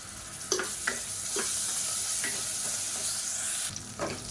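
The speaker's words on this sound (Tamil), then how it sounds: "இப்போ இஞ்சி பூண்டு பேஸ்ட் நல்லா வதங்கிடுச்சு" Ginger garlic paste sizzles in hot oil while being stirred for a lunch box dish: a steady, close frying hiss broken by repeated scraping stirs.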